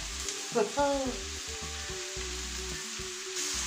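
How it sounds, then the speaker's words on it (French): Filling for homemade nems cooking over very high heat in a pan, a dense steady sizzle with a few brief stirring scrapes near the start, then continuous frying hiss; some faint low-pitched tones sound in the background. "Allez, on remue tout, on laisse à feu très chaud."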